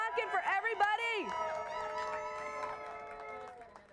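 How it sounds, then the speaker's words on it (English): A crowd at a fundraising program cheers and whoops, voices rising in yelps and shouts, with sustained car horns honking together underneath and trailing off toward the end. "Can we get a final whoop whoop, some cheering, some horn honking for everybody?"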